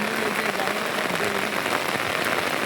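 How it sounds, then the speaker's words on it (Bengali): Heavy downpour outdoors during a rainy outing, a dense, steady hiss of rain covering the whole clip with no gaps, loud and close. "পুরো মানে ধাক্কা বৃষ্টি একদম।"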